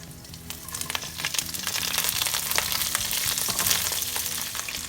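Curry leaves spit and crackle in hot oil while making restaurant-style Chicken 65, a busy, close sizzle full of sharp pops that holds steady for several seconds with no voice.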